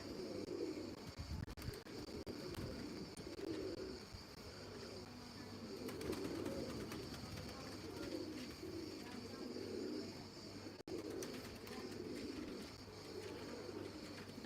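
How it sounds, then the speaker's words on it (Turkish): Soft cooing of pigeons nearby, repeated low calls in a steady pattern over faint background hum. "Zeminde kuşlar yerde."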